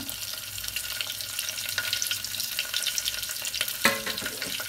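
Steady sizzling hiss of ingredients frying in a pan for katte pongali, with a brief stirring clatter near the end; no talking.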